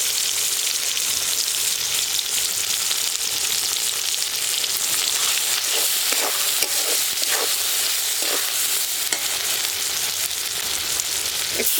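Steady, dense sizzling of a spice masala with salt, turmeric and red chili powder frying in a pan, continuous and close, with occasional stirring scrapes and no talk.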